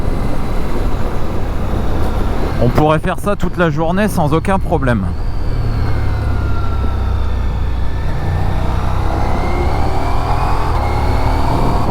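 A 2026 Ducati Diavel V4 motorcycle engine roars continuously while riding, with rising revs and a burst of rapid pitch sweeps midway, loud and close under a rider talking throughout with wind noise.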